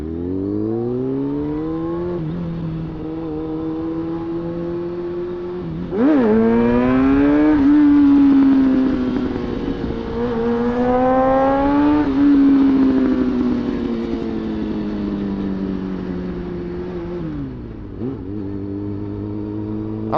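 Motorcycle engine revving hard during a ride, the pitch climbing and falling through several gear changes and surging louder midway before settling back, heard up close and continuous with no talking.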